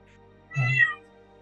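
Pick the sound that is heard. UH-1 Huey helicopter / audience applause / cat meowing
cat meowing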